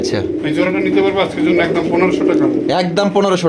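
Golla pigeons coo in low, rolling, repeated calls close by, mixed with people talking.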